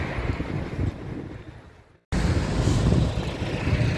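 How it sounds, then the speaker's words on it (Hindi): Street traffic rumbles past in Ukraine, a steady wash of vehicle noise with wind buffeting the microphone, briefly dropping out before resuming louder and closer. "ये देखिए ट्रैफिक,"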